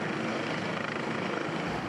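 A French GIGN special forces helicopter lands on a rooftop, its rotor and engine roaring loud and close in a steady, dense drone with a rapid beating pulse.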